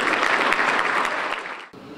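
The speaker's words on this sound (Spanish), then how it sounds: "Un aplauso." A business luncheon audience applauds with dense, even clapping for nearly two seconds. It is close and full, then cuts off abruptly to a quieter room.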